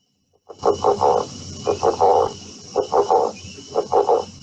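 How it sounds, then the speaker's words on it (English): Northern leopard frog calling in a wetland, a series of four rough, snoring croak bursts in steady rhythm, each made of several rapid pulses, fairly close and clear over a faint hiss of background insects. "Northern leopard frog."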